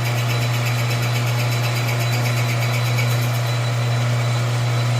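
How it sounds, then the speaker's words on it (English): A lathe cutter turning a brake drum from a Case 310G makes a steady, loud mechanical whir with a constant low hum and gritty high-pitched hiss, continuing unchanged throughout. "We're going to go ahead and oh so slowly engage the cutter."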